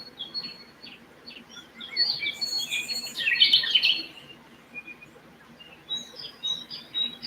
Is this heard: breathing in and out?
no